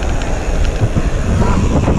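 Strong wind buffets the microphone while cycling on a long road ride, a steady low rumbling roar that gusts in and out throughout and stays close and loud, with no voices over it.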